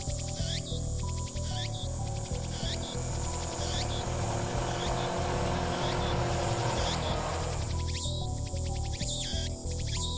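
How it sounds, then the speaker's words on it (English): Cicadas drone in a Steins;Gate visual novel scene, a dense steady buzz that swells in the middle and holds under quiet game music with chirpy accents, continuous for about ten seconds. "I can hear the sound of cicadas from somewhere."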